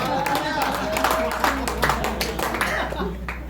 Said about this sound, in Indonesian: Beri tepukan kepada Tuhan lagi.